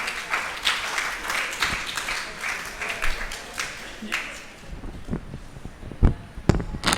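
An audience at a Jain women's association gathering applauds to welcome guests with sustained, fairly loud clapping that thins out, while a few louder isolated claps and bumps come near the end.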